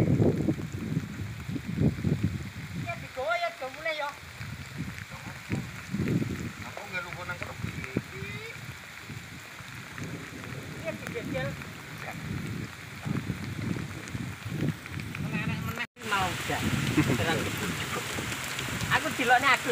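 Rain falls after a long dry season, a steady, fairly quiet hiss of drops hitting surfaces that continues for the whole stretch, with indistinct voices mixed in and a brief dip partway through.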